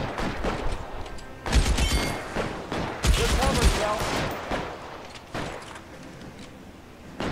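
Bursts of gunfire in the L.A. Noire video game, with heavy volleys around the middle of the stretch and lighter shots before and after, mixed with game sounds.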